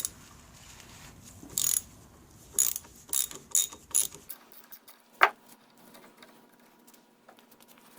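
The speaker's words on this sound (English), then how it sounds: "There's a pivot screw right here. Got to take that out." A pivot screw being worked out of the shift rod linkage on the lower unit of an Evinrude 40 HP outboard motor, several short ratcheting bursts close by, then a single sharp metallic click against a quieter background.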